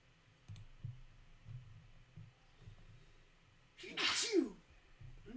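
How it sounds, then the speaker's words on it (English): A single sharp sneeze bursts out near the end of a quiet stretch, loud and close, over a faint low hum and soft rhythmic thumps during a card game. "That was a literal achoo."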